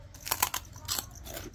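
Crunchy food is chewed up close in a few sharp crisp bites with short pauses between them, at a meal of Ilocano dinengdeng.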